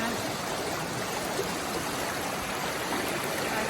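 Creek water rushes and burbles steadily around someone standing midstream on a river trail, a continuous close, broadband wash without speech.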